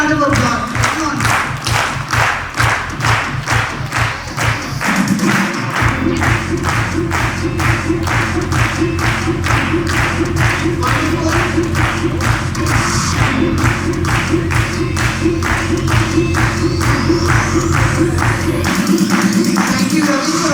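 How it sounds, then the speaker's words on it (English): An audience at a conference breaks into a long round of applause, with dense rhythmic clapping that holds steady and loud for about twenty seconds, and some voices mixed in. "Big round of applause."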